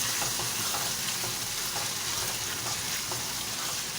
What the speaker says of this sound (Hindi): इसकी अब अच्छी तरह हमने भुनाई करनी है तकरीबन 10 मिनट तक।